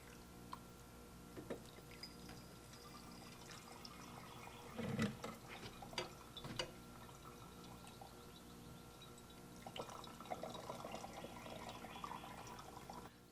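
Bone broth pours and splashes softly into a jar, with a few clinks and trickles over quiet background hum.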